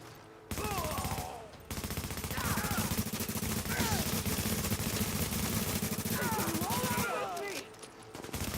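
Rapid automatic gunfire from The Division video game rattles on in long continuous bursts. A loud, close clatter fills most of the clip, with brief electronic chirps over it.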